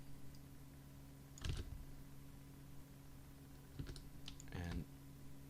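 Computer keyboard and mouse being used, a few sparse clusters of close clicks and key taps separated by pauses, over a faint steady electrical hum.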